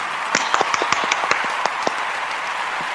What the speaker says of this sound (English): So that deserves a huge round of applause.